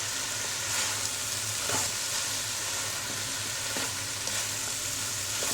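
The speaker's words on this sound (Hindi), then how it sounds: "इसे अच्छी तरह थोड़ा सा मिक्स कर लें ताकि सारे मसाले इसमें मिक्स हो जाएं।" Egg fried rice with chicken and green onions stir-fried in a hot pan, a steady close sizzle with occasional scraping stirs, no talking.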